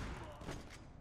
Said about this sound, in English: even with the explosions on screen